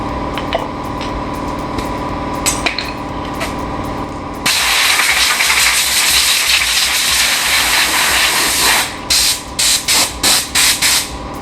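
Cutting oil lubricant sprayed from a can onto a new truck shifter on a rat rod dually during a 460 engine swap: a loud continuous hiss for several seconds, then a string of short rapid spurts.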